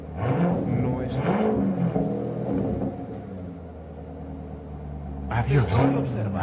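A 2019 Chevrolet Corvette Grand Sport with a 6.2L V8 and straight pipes idles with a deep, full rumble, then revs sharply near the end, with people talking over it.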